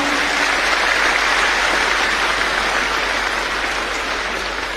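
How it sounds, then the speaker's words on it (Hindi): Loud, sustained applause from an audience at a Delhi government schools event honouring students who qualified for JEE and NEET, welcoming the chief minister, with thick even clapping throughout. "आपसे अनुरोध, जोरदार तालियों से आइए शामिल।"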